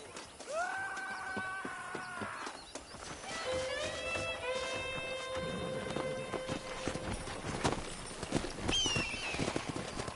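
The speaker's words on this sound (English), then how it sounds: "let's see if we can't wrangle some horses" Horses being wrangled in the video game Red Dead Redemption, several neighs and whinnies over a background of hoof clip-clops, with a final high whinny near the end.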